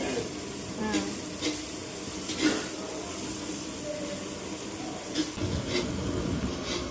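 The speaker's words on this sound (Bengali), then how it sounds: "পেঁয়াজ ভাজা হচ্ছে" Steady sizzling and crackle of onions and whole spices frying in hot oil with bay leaf and dried chilli, with occasional stirring clatters throughout.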